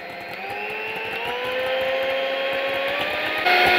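An electric mixer whisking melted shea butter, a steady whining motor hum that rises slightly in pitch as it runs, with a brief jump in loudness near the end.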